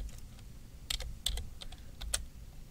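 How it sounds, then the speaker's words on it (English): Typing on a computer keyboard while entering commands in a Windows CMD.exe prompt, with a few sparse, crisp key clicks and short bursts close up over a quiet background. "So if we type out ASMR goods dot"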